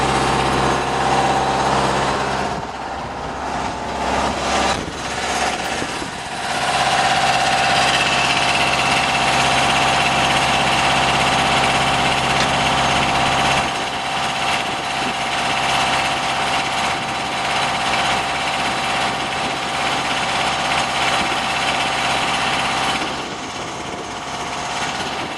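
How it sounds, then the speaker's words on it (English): A generator drones steadily and loudly at close range. It powers a mobile phased-array radar truck during storm-chasing field operations in Oklahoma. The hum is continuous, with a slight shift partway through and no voices over it. "You got to start this generator back here."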